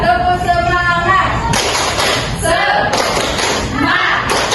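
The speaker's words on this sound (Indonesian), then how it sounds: "Kita tepuk semangat." Classroom of students doing a rhythmic group spirit clap, bursts of sharp claps repeating in a steady pattern at close range, with a voice speaking briefly between the claps.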